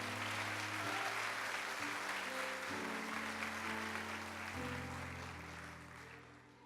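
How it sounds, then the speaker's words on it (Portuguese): A church congregation applauds continuously, a dense wash of clapping under sustained organ or keyboard chords that shift in steps, fading slightly toward the end. "Se for para aplaudir, aplauda mais forte,"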